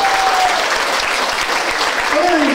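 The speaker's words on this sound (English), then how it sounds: "Give her a round of applause." Audience applause at a school award ceremony, steady clapping from a crowd filling the whole moment, with a voice briefly audible over it.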